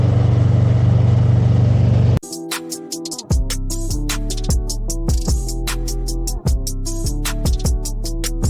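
A car drives along and accelerates on a bright day, the engine droning steadily up close with repeated gear-shift dips and rising revs, after a brief burst of wind-like noise at the start.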